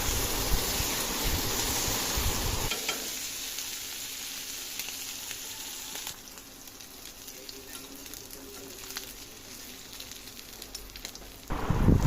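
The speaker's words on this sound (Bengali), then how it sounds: "আমার চিংড়ি মাছগুলো মোটামুটি ভাজা হয়ে গেছে।" Prawns fry in a pan with a steady, crackling sizzle that holds for about twelve seconds. It dips a little partway through and then swells louder again at the end.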